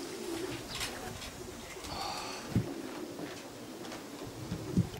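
Racing pigeons coming in to a club loft in Czersk, Poland during a race arrival: soft cooing and brief bird calls over steady outdoor background, with a couple of sharp thumps like birds landing.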